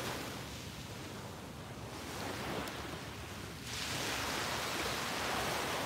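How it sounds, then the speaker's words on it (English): Steady broadband wash of ocean waves at a beach, fairly faint and continuous with a gentle swell midway, no voices over it. "Here's the beach to the north of us."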